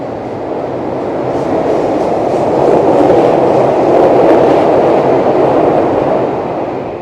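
A train in Japan rumbles loudly and steadily as it pulls out of Tamagawa station after emerging from a tunnel, its noise swelling as it gathers speed and then easing slightly, with no one talking.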